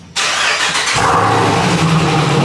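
A Jeep Grand Cherokee Trackhawk engine starting, a short starter crank that catches into a loud, steady rumbling idle held close by, with no one speaking.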